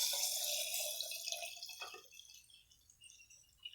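Water pours into a mixture of aloe vera juice and black rice water, a faint, close splashing trickle that tapers off into scattered drips.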